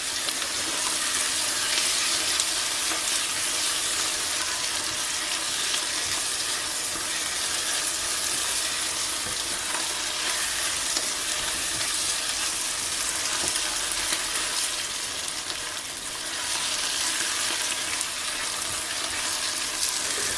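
Tomato paste and soup ingredients sauté in a pot for a Lenten orzo and tomato soup, a loud, steady hiss of sizzling throughout with a brief dip near the end.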